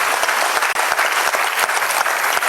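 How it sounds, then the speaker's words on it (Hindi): A large audience at a poetry recital breaks into loud, sustained applause, dense clapping that fills the space steadily from start to finish. "हम जनता की तालियां सुनने के लिए भी तरसे"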